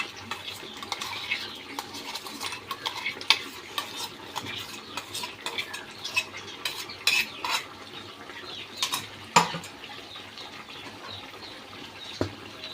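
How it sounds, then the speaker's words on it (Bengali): Tomato paste fries in a pan over high heat, giving a quiet crackle under repeated scraping and clinking of a spoon against metal, with irregular taps and stirs close by. "টমেটো বাটাটা দিয়ে দেবো।"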